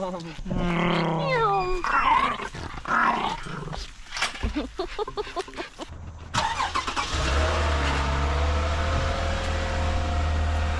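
Vehicle engine cranking and catching, then settling into a steady idle with a low rumble, after barking dogs and a person talking at the start.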